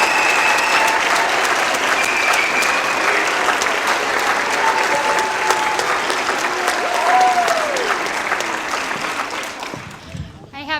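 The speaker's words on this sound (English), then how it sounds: "Let's give those third graders another round of applause." An audience at a school's Armed Forces Recognition Concert applauds third-grade performers, a full, sustained roar of clapping that holds steady for about ten seconds, then cuts off abruptly near the end.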